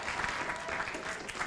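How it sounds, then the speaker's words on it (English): A conference audience at a pro-life, family-friendly side event to ICPD25 gives a short burst of lively clapping, close and even, lasting only a moment. "So just do a good clap"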